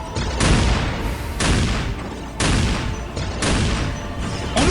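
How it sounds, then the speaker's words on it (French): Weapons fire in the Warhammer 40K video game, heard as four loud bursts of rapid shots, each about a second long, separated by short gaps. "On nous tire dessus."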